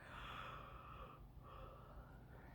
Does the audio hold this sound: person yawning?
yes